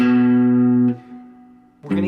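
Guitar strings struck and left ringing open without palm muting sustain loudly and close for about a second, fade to a softer tone, then a second full strum rings out near the end, with no talking.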